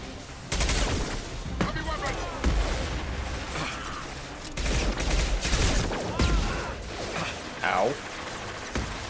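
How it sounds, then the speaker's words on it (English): Rapid bursts of gunfire from a Mass Effect 2 firefight, loud and sustained with clustered volleys and mechanical clatter throughout, with no speech over it. "Taking heavy fire"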